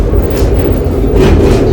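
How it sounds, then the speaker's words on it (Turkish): A tram passing along a street in Bucharest gives off a loud, close, continuous rumble with faint rail clatter throughout, and no one speaks. "tramvayı çekelim"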